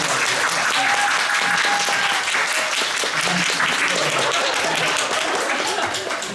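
Audience applause at a final curtain call after the closing performance of the musical 미수, a dense, steady wash of many hands clapping that holds evenly throughout, with faint voices mixed in.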